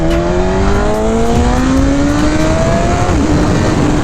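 A BMW S1000RR 1000cc sport motorcycle engine accelerates hard, its pitch climbing steadily through a rising whine over constant loud wind rush, close and continuous.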